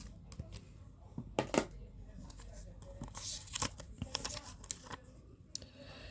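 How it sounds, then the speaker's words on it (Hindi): Tarot cards are shuffled by hand in short riffling and flicking bursts, close and irregular, with some quiet background noise. "last shuffle"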